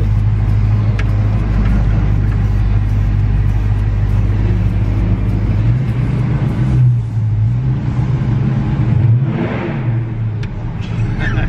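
A Dodge Charger Scat Pack in track mode rumbles loudly from inside, its engine droning low and then revving and surging partway through before easing off, with voices talking over it.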